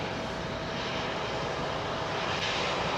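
An airliner landing on runway 27R at London Heathrow, its engines a loud, steady broadband roar that fills the whole stretch with no talk over it.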